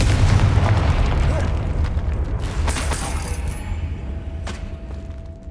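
A Confringo fire spell explodes in the video game Hogwarts Legacy, a heavy booming blast up front that rolls into a decaying rumble with crackling debris and a few smaller pops.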